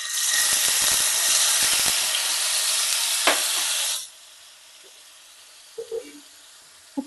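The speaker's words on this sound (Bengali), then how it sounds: "ফ্রাইং প্যানে আমি 2 চামচ মতো সাদা তেল দিয়ে নিলাম, পনিরটা ভেজে তুলে নেব।" Paneer drops into about two spoons of white oil in a frying pan, and a loud, dense sizzle fills the first four seconds. It then falls away to a quiet hiss with a few small clinks near the end.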